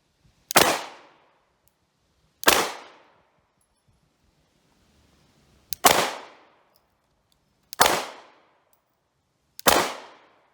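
Five sharp pistol shots from a new Glock 45 at an outdoor shooting range, each a loud crack with a short decaying tail, spaced irregularly about two to three seconds apart with quiet between.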